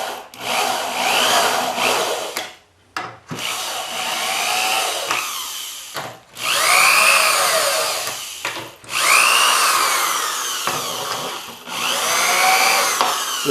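A 12-volt Milwaukee cordless drill runs in loud, sustained bursts as it bores into a finger joint plate in a workshop, the motor pitch rising and dipping with brief pauses between passes.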